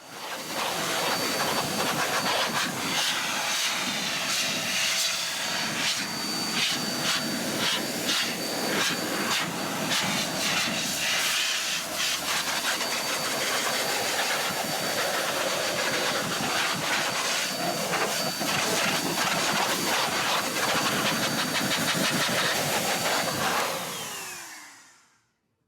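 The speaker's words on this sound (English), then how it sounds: "the wheels were quickly blow dried to remove any trapped water from their recesses" An air blower dries a car's wheels, pushing trapped water out of the wheel recesses. A loud, steady, rushing hiss runs unbroken for about twenty-four seconds, then cuts off abruptly.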